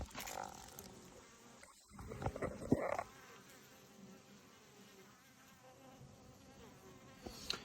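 Bees buzzing outdoors at an apiary, a steady insect hum with a louder pass up close around the middle, then settling back to a softer drone.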